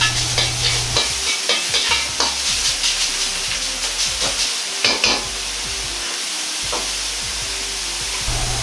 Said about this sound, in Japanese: ひき肉を入れたら強火にして一気に炒めていきます。